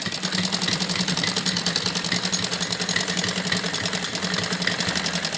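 Electric sewing machine stitching fabric for a pleated full-sleeve girl's frock, a fast continuous rattling whir with a steady rapid needle pulse, close and loud throughout, no talking.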